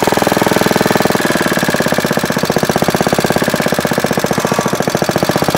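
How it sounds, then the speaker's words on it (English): An antique Moto-Mower lawnmower engine chugs steadily at close range, a loud rhythmic put-put with a rattling knock, running without any talk. "You got us a running lawnmower."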